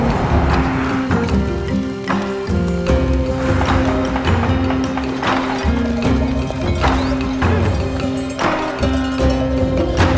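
A donkey walks steadily, its hooves clip-clopping in a regular rhythm under a continuous bed of music, with fairly loud, sharp hoof strikes recurring throughout.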